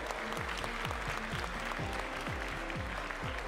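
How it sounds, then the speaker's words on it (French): Audience applauding at a Tarentaise competition event, continuous clapping over a rhythmic low tonal pattern repeating in the background, steady and moderately loud throughout. "applaudir Emmanuel"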